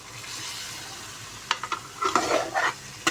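Creamy white chicken karahi is stirred in a pan over a medium flame, giving a soft low simmer followed by several close scraping and clattering strokes of the spoon in the second half.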